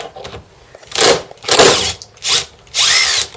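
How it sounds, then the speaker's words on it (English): Impact wrench spinning out power steering pump bolts on a Ford Escape / Mazda Tribute 3.0L V6, four close, loud bursts of whirring and hammering, each about half a second, separated by short pauses. "So I'm going to try with an impact here."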